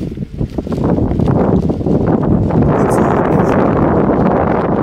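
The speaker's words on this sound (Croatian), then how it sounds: "Jel čujete vi ovaj vjetar tu?" Loud, steady wind roars and buffets the microphone on a snowy day, a broad rushing noise that builds after the first second and stays constant.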